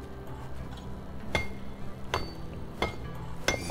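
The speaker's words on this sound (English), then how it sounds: "Break rocks with the hammer." Hammer blows striking rocks, four sharp separate impacts spaced about a second apart, each a bright clack over a steady low background hum.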